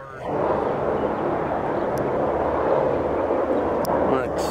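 Several helicopters flying past in a parade formation, a steady loud rotor and engine rumble that stays constant throughout.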